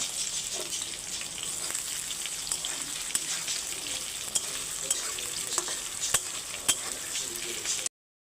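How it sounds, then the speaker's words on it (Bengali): Chopped onions with bay leaf and whole spices fry in oil in a kadai wok, a steady sizzle broken by sharp scraping clicks of a spatula stirring, then cutting off abruptly. "পেঁয়াজগুলো ভাজা ভাজা হয়ে গেছে।"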